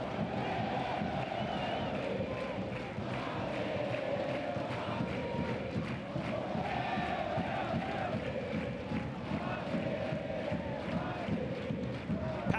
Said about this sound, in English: Crowd at El Trebol, and you'd expect nothing less.